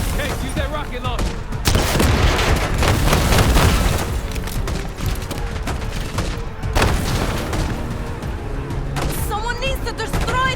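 Rocket launcher fire and explosions boom through a Black Ops 6 campaign battle, with heavy blasts and gunfire crowding a loud, chaotic mix while voices shout over it.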